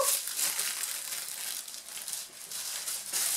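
Tissue paper is crumpled and crinkled close by in soft, continuous rustling bursts that dip briefly midway, then resume.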